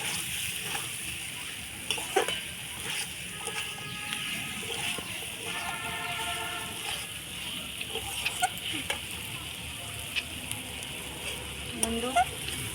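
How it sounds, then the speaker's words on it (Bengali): Shrimp stir-fried in a pan for a Bengali shrimp kosha, giving a faint, steady sizzle with soft scraping and stirring knocks throughout, fairly quiet and close. "চিংড়ি মাছগুলো দিয়ে একটু ভালো করে কষিয়ে নেবো।"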